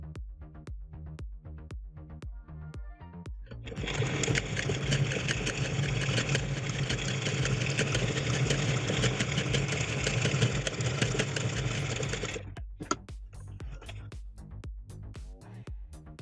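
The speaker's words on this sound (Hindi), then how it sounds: "ये देखिए फ्रेंड्स, ब्लू टिप नीडल से हमने स्टिच करी है और ये बहुत ही बढ़िया सिलाई आई है" A domestic sewing machine runs in one sustained burst of about nine seconds, stitching stretchy hosiery fabric with a blue tip needle, with soft clicks and handling noises before and after.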